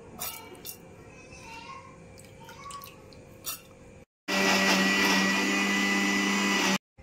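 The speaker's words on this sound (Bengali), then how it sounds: "গোবিন্দভোগ চাল আর ছোলার ডাল একসাথে ভিজিয়ে রেখেছিলাম, সেটা এখন বেটে নেব।" An electric mixer-grinder blends soaked Gobindobhog rice and chana dal into a paste. A loud, steady whirring motor starts abruptly after some quiet kitchen clatter, runs for about two and a half seconds, then cuts out.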